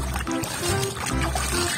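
Water trickles and splashes steadily onto a toy sand truck for a couple of seconds, a close, running pour with a low hum underneath.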